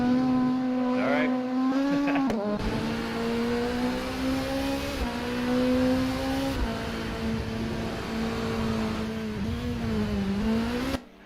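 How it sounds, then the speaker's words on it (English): Nissan Primera race car engine in a racing game, a loud sustained drone that rises and dips through gear changes with a few brief shifts, heard continuously. "the engine is going to be so loud, John."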